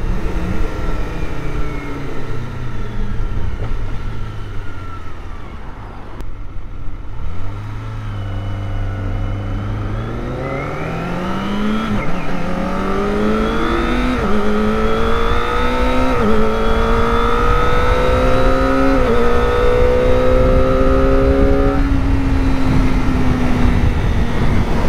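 Kawasaki ZX25R four-cylinder motorcycle engine revving loud and close, climbing through the gears in a series of rising, high-pitched pulls with brief dips between shifts, no talk over it.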